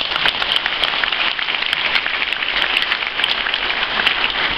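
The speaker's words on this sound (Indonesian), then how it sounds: "Boleh tepuk tangan sekarang" An audience at an Indonesian school gathering claps loudly and continuously, a dense patter of many hands with no speech.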